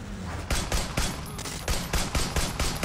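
Rapid gunfire from two guns in the video game Sleeping Dogs, about ten loud, sharp shots in quick irregular bursts, close and alone.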